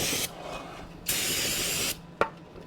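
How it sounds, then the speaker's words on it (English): Brake cleaner sprayed onto the factory-coated rear brake rotor of a 2008-2015 Scion xB: two close, loud aerosol hisses, the first short and the second longer, then a brief sharp tap. "Get a little bit of brake clean."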